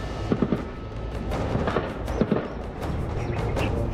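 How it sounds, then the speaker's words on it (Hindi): Gunfire from an encounter with militants in Pulwama, South Kashmir, rings out as scattered sharp cracks and bursts, some in quick pairs, spread across a noisy, rumbling background at moderate distance. "ये दक्षिणी कश्मीर के पुलवामा में 3 आतंकियों से मुठभेड़ की आवाज है, जिसमें दोनों तरफ से अंधाधुन फायरिंग की गई।"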